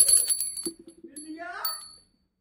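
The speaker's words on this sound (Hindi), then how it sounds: "और घंटी को बजाएंगे।" A small bell rings brightly twice, once at the start and again shortly after, with a voice in between.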